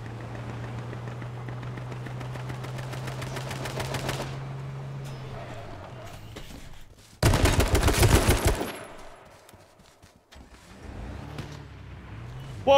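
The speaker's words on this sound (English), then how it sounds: "That sounded like a sniper rifle." A single loud sniper rifle shot rings out in the H1Z1 battle royale game, a sharp broadband crack with a reverberant tail lasting about a second. Quieter game ambience and rapid earlier gunfire sit around it.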